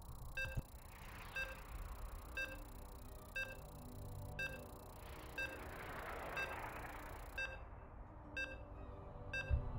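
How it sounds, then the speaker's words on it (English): Short electronic beeps from the StarCraft video game repeat at a steady, evenly spaced rhythm, faint and close, over a low hum with a soft whooshing swell in the middle and no talking. "As you can hear the beeps"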